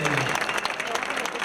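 A crowd applauds a winning cyclist at the Volta Ciclista a Galicia 2016 celebration, a brief burst of dense, steady clapping close by, with a voice briefly heard at the very start.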